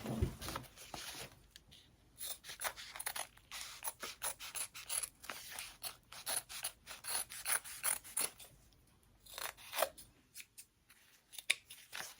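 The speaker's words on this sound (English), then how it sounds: "I'm just gonna trim down the foam, my extra threads." Scissors trim single-sided fusible foam and loose threads while a handbag is being sewn, a run of close, crisp snips and rasping cuts repeating in quick irregular bursts with no talking.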